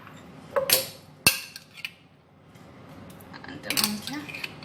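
A spoon scoops mayonnaise for a Caesar salad dressing, making a few sharp, close clinks against a bowl or jar separated by quieter moments.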